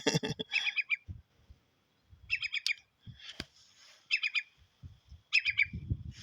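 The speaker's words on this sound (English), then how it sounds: "Hear that bird?" An outdoor bird calls in repeated bursts of rapid, chattering high-pitched notes, several separate phrases spaced through the clip, fairly close and clear, with quiet low rustling and handling noise between calls and no speech.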